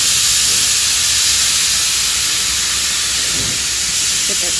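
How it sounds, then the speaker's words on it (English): A steam train lets off a loud, continuous hiss of steam, steady and close throughout with no pauses. "Get that steam happening."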